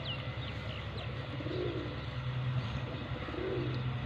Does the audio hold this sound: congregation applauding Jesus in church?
no